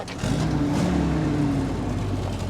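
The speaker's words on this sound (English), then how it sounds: "All right, rev the engine." A 1952 Willys M38-CDN Canadian military jeep, built by Ford, revs loudly and close, its engine climbing in pitch and holding before easing back down.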